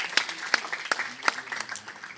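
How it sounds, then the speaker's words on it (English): A workshop audience gives a short burst of scattered applause, with several distinct claps that quickly thin out. "Can we please give a round of applause?"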